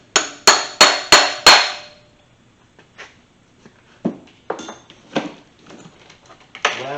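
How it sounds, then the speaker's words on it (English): Five sharp metallic hammer strikes ring out in quick succession, staking down a Porsche transfer case nut, followed by softer scattered taps and clinks of tools on metal. "there's a little spot in which you can stake this nut down"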